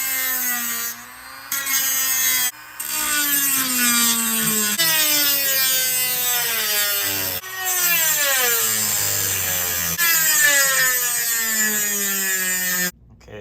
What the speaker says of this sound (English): just go ahead and use a Dremel, and I'm gonna go ahead and cut them